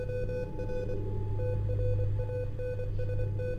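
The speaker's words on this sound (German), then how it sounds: "Oder es fängt einfach an zu piepsen." A radio in the video game Portal gives off steady repeating electronic beeps and tones over a constant low hum, continuous and fairly loud throughout.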